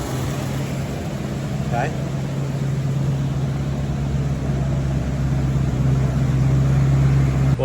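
A Cadillac Seville Elegante engine idles steadily nearby, a constant low hum with a strong tonal drone that holds evenly throughout, with a brief voice heard once.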